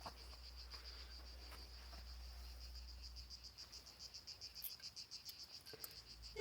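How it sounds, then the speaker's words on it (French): Cicadas at an evening campsite near Rocamadour keep up a steady, high, shrill buzzing chorus, with a faint low rumble underneath early on that fades away. "Avec le petit bruit des cigales."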